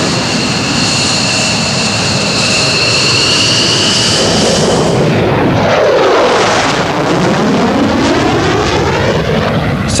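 A jet aircraft roars loudly on its takeoff run, a steady high whine and rushing thrust giving way midway to a sweeping, rising swell as it climbs away, with no talking over it.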